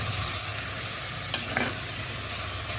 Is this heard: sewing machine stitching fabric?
no